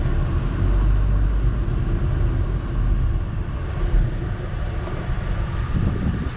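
Road noise and low engine rumble fill the cabin of a 2014-2020 Nissan Rogue on a test drive after a front brake pad change, a steady broadband drone with wind buffeting and no talk.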